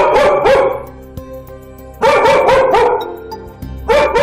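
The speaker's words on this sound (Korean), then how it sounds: "보호자를 등지고 아까보다 더 과격하게 짖는 녀석" A dog barks loudly and close in repeated fierce bursts, several barks at a time with short pauses between groups.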